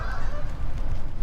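Geese honking outdoors, a brief burst of overlapping nasal calls at moderate distance.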